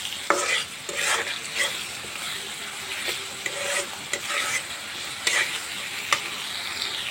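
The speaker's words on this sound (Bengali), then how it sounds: "ভাজা পেঁয়াজ কুচি মরিচ কুচির মধ্যে আমি সামান্য পরিমাণ লবণ দিয়ে এটা ভালোভাবে" Chopped onion and chilli frying with a little salt, a dense continuous sizzle close by, punctuated by sharp clinks and scrapes of a spoon stirring the pan every second or so.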